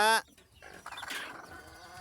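A brooding native hen sitting on eggs on a small poultry farm gives a short loud harmonic cluck at the start, followed by quieter scratchy fowl sounds and faint rustling nearby.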